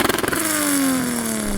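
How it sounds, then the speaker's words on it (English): A Toyota Supra 80-series with a 3-litre turbo engine revs loudly and close up, rising from a rough idle into a long sustained high-rpm pull with a steadily falling tone. "Ben, let's have a listen to your 3 litre turbo engine."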